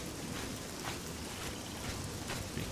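Pouring rain along a coastline at night in the fantasy game Oblivion, a quiet even hiss of falling drops with no voices or other sounds.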